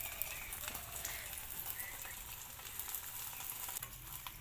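Egg-dipped flour pitha fry in a pan over low flame, a soft continuous sizzle with faint crackles, quiet and close, while a voice talks lightly over it.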